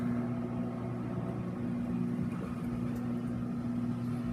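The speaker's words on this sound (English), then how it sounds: "this is a Whirlpool Cabrio high efficiency washer" Whirlpool Cabrio high efficiency washer running, a faint steady hum with a low mechanical drone and no change in rhythm.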